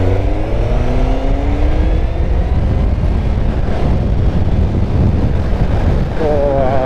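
Motorbike engine revving up hard close by, a loud continuous roar with rising and falling pitch sweeps, strongest at the start and again near the end, with wind buffeting the microphone throughout.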